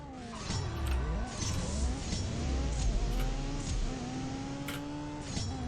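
A racing car in a live online race in a driving game, its engine revving hard and climbing through gear changes with a quick shift up into second, loud and steady throughout with no talk.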